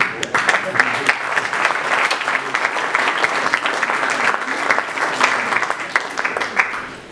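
Audience applause for a group at a regional business awards ceremony, sustained and lively, with many crisp individual claps over a dense crowd bed lasting several seconds.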